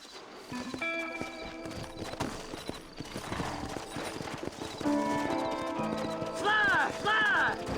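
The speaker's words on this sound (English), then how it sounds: "Horses are over here!" Horse hooves clip-clop at a run in the Red Dead Redemption video game, a steady rhythmic drumming joined by a whinny, a voice and music, with a rider's shout near the end.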